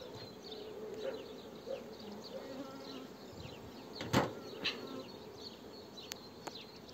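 Honey bees buzz steadily around a beehive outdoors, a dense continuous hum with individual bees passing close by and one louder buzz sweeping past near the middle.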